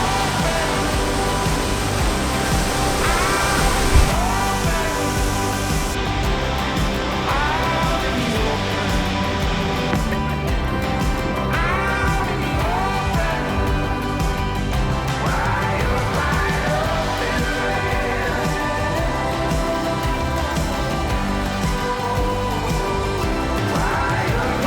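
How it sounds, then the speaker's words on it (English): A waterfall in Ubud, Bali pours in a steady, loud, broadband rush, continuous and close, with faint voices of visitors and brief chirps or calls mixed in. "we're at the waterfall"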